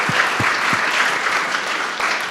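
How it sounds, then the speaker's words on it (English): An event audience at a community summit applauds in a steady, even wash of clapping that holds for the whole moment, with no one speaking over it. "Please give them a round of applause."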